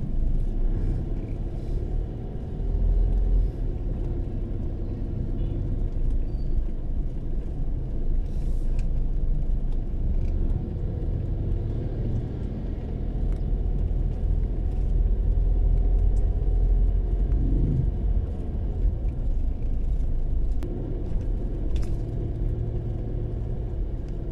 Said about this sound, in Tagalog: Medyo matraffic nga lang dito papasok mga kalakbay dahil marami ding mga tricycle